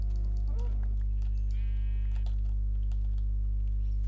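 Sheep in the video game Minecraft, Feed the Beast modpack, give a couple of short bleats over a constant low electrical hum, with faint clicking like keyboard typing scattered throughout.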